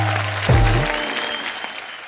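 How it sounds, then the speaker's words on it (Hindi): A studio audience at a comedy show claps for actor Fawad Khan, a full, steady wash of applause that fills the whole moment, with a low thump early on. "खैर फवाद खान के लिए जोरदार तालियां हो जाएं।"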